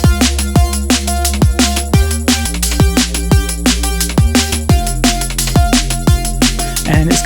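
A Serum synth square-wave Reese bass growls low and thick under a punchy drum beat, with sustained bass notes changing pitch every bar and loud, steady layered synths.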